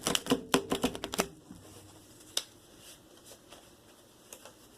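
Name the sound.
shuffling tarot cards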